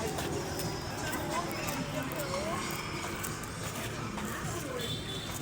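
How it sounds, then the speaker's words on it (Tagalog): Hooves of small horses with covered eyes clip-clop steadily at Luneta Park in Manila, set against a busy outdoor crowd with people talking nearby. "Malilit lang kabayo nila dito, guys."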